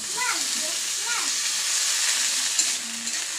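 Chopped onion sizzling in a hot pan of oil while cooking chow mein, a steady bright frying hiss throughout with a few soft stirring sounds and a faint voice underneath.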